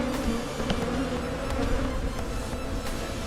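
A honey bee swarm on a farm fills the air with a dense, continuous buzzing of many bees, close and steady, with faint individual wingbeats passing through.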